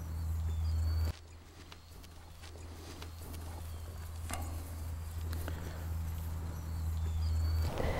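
A ridden horse walks with hooves clip-clopping in a loose, uneven rhythm at moderate distance, under a steady low hum.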